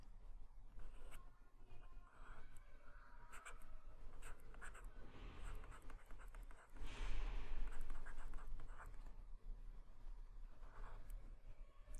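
Chalk or marker tapping and scratching on a board as physics equations are written, faint intermittent strokes over a quiet room hiss.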